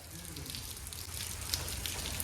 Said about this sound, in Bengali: সো এখন দেখতে পাচ্ছ প্রচুর বৃষ্টি হচ্ছে গাইস।